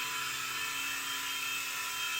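A Blade mCX micro RC toy helicopter hovers steadily close by, its tiny rotors and motor giving a continuous high-pitched whine with no pauses and no talking.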